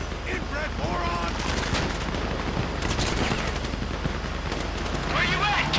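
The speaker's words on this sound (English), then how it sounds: "You hear that gunfire?" Rapid bursts of gunfire fill a GTA V bank robbery shootout, dense and continuous at fairly close range, mixed with in-game characters shouting over the shots.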